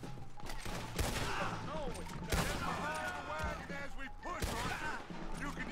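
Rifle gunfire in the video game Red Dead Redemption 2: a handful of sharp, separate shots spaced a second or more apart, with voices talking over the fight.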